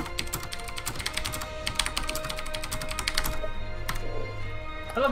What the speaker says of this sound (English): It's a mechanical keyboard.